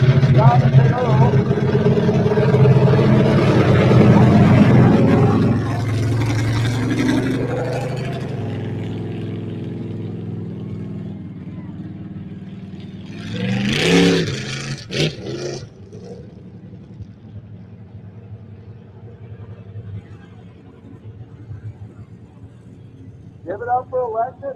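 Big Earl, a mud racing vehicle at The Masters Motorplex in Gaston, South Carolina, roars loudly through a run, its engine dropping off as it passes. Crowd noise and an announcer's voice carry over the engine sound.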